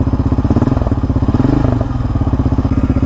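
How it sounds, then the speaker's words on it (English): Quad engine idling up close with a steady rapid chugging pulse, a faint ticking valve rattle within it, loud and alone. "I hear like a faint rattle when it's idling."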